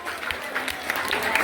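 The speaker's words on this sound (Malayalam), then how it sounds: "ഒരു കയ്യടി കൊടുത്ത് അഭിനന്ദിക്കാം." Children and guests clapping at a school Independence Day celebration, a dense run of hand claps at moderate distance lasting throughout, with faint crowd murmur beneath.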